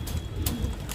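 A young pigeon coos on a rooftop in low, soft pulses, muffled and close, with a steady background rumble and no clear talk.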